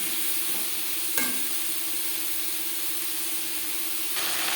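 Cut potatoes and tomatoes fry in a pan while being turned, giving a steady close hiss of sizzling oil with a couple of brief clinks or scrapes, moderately quiet and without voices.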